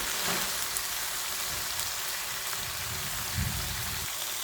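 Chopped chalkumra (ash gourd) leaves added to hot oil in a pan over fried spices, giving a steady bright sizzle and crackle with a few louder spatters, close and continuous.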